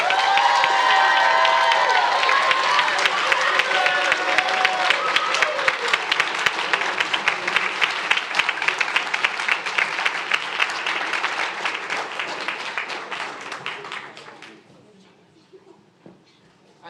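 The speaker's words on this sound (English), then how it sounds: "Let's give it a round of applause again for all our high points" Crowd applause with some cheering at a swim team's end-of-season awards ceremony for high point winners: loud, dense clapping that carries steadily, then thins out and fades near the end.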